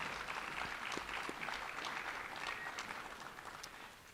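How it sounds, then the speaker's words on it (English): An audience at a Hall of Fame ceremony gives a round of applause, a dense patter of clapping that gradually fades, fairly faint and with no talk over it. "How about one more round of applause for Anae Schrader?"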